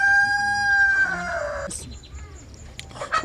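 A cockerel crows once with a strained, harmonic call that fades out, followed by faint scattered clucks and rustling nearby.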